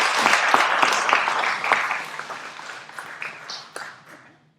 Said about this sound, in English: a big round of applause for these folks